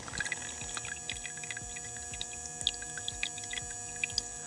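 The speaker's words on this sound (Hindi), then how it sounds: "आपको इसका वाटर पंप का आवाज़ आ रहा होगा और पानी का भी।" A small water pump runs inside a homemade air cooler built from a paint can, giving a low steady hum with a faint throbbing pulse and light trickling water on top, with no voices.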